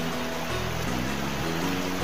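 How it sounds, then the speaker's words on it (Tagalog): A strong river current flows in a steady, loud rush of water close by. The dense wash of sound holds constant throughout, with no voices. "Nga naman kusog kaayo ang agos sa tubig, no?"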